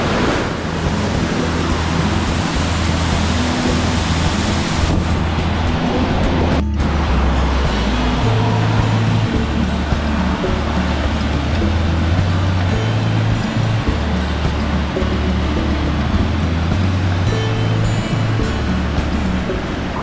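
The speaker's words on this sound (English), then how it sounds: "This is the Cross River." Cross River on Minnesota's North Shore, a steady loud roar of rushing, tumbling water filling the whole stretch with no speech.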